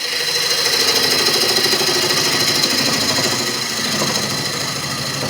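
Wood lathe turning a three-leg stool part with a 1/4 inch (6mm) bowl gouge: a steady, continuous whirring and scraping hum with a rough, chattering texture, close and fairly loud throughout, no talking.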